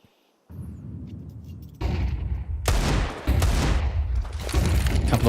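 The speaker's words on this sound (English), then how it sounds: "Couple of warning shots." Gunfire in a Counter-Strike esports match, with pistols in play: a few sharp shots ring out, then dense overlapping bursts and a sustained rumble of fire, loud and close.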